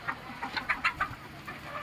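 Chickens cluck in a poultry shed, a short run of soft, close clucks in quick succession, rising to a few louder calls in the middle before fading back, with no voices.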